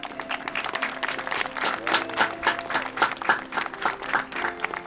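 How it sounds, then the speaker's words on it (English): Applause for special guests at the Kickn' Cancer 2023 evening event, a steady crowd clapping with a sustained tone running underneath throughout. "Let's give another round of applause for our special guests."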